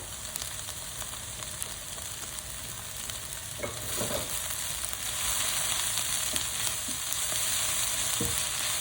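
Garlic and ginger frying in a pan for chicken curry give a steady, fairly loud sizzle that swells midway, with occasional soft utensil knocks and no talking.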